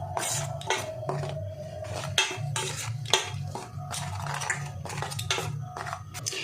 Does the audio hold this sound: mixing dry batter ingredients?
yes